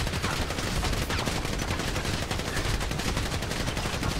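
Rapid, dense gunfire from a bank robbery video game, continuous bursts like automatic weapons firing without pause, loud and close throughout.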